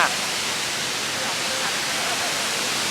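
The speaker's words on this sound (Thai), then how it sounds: "ตอนนี้อยู่ที่น้ำตกวชิรทานนะครับ น้ำแรงมากมองไม่เห็นหรอก" Wachirathan Waterfall, swollen after seasonal rains and flowing very strongly, produces a loud, steady, close-up roar of rushing water with no breaks.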